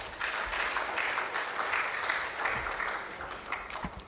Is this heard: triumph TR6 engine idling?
no